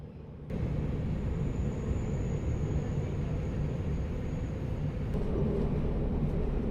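Continuous low rumble of a Paris double-decker train in motion heard from the upper deck, steady and droning with a faint high whine, rolling into Montparnasse station.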